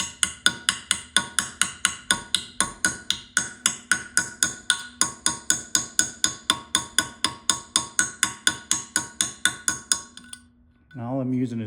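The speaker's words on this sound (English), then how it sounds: "all I'm using is just this tiny little ball peen hammer" Rapid, steady metallic tapping of a small ball peen hammer engraving a sword, ringing with each strike, about three hits per second, then stopping before a brief voice.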